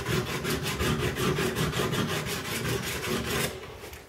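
A chisel rubbed back and forth on a Harbor Freight diamond sharpening block, giving a steady rhythmic rasping scrape of about a dozen quick strokes, close and loud, that stops near the end.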